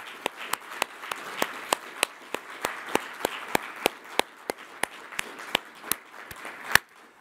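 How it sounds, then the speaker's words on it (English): Sparse, slow applause at an IMF statistical forum, a few hands clapping in a steady rhythm of distinct claps that stops with one final clap, no talk. "I want a separate applause for them"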